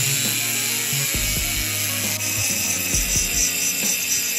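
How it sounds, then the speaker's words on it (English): A Dremel rotary tool fitted with a diamond encrusted tip grinds a petrified wood knife to sharpen it, a loud, steady high whine with short bursts of grinding contact, close up and without talking. "I have a diamond encrusted Dremel tip here that I'm going to try to use to sharpen it."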